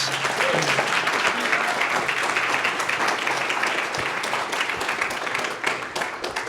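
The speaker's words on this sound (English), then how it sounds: "Let's give Leslie and Kevin a round of applause." Sustained applause from a tech conference audience rewards two speakers, a dense steady roar of many hands clapping for several seconds at close range.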